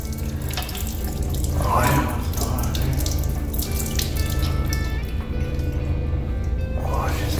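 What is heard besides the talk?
water running from a tap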